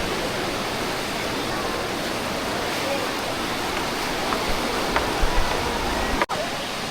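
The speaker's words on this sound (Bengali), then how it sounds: "দেখো আস্তে আস্তে জল দেখো চলে আসছে" Sea water rushing in at Tajpur beach, a steady, loud broadband wash of surf that fills the whole span, with a few brief knocks near the end.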